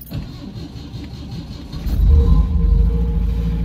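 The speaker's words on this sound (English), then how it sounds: "Car starts," An MGB sports car with the choke on starts up outdoors on a winter day in Ottawa, a brief cranking followed by the engine catching near 1.8 seconds and settling into a loud, steady rumbling idle close by.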